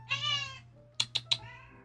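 A very vocal house cat gives a drawn-out meow, then three quick, sharp chirps in a row, and ends with a shorter, trailing meow. The calls sound close and clear, with no talking over them.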